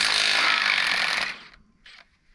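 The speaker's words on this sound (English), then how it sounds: "I am able to get these bolts off with this little ugga-dugga" A small impact wrench rattles loudly for over a second while removing bolts on a broken farm irrigation pivot, then cuts off, followed by one short burst.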